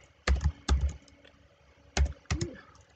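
Keys clatter as QBasic code is typed on a computer keyboard, two short bursts of quick clicks separated by a pause, close and fairly clear in a quiet room.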